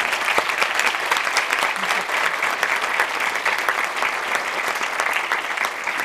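Steady, dense applause from a concert audience honoring a Turkish classical music instrumental ensemble, sustained and even throughout without letting up.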